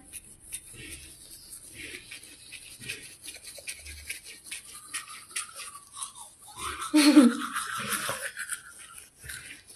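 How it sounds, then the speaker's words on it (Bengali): Close, scratchy bristle strokes of teeth being brushed with a toothbrush, continuing steadily with a louder stretch near the end; faint voices are heard in the background. "এখন আমরা ব্রাশ করে নিলাম।"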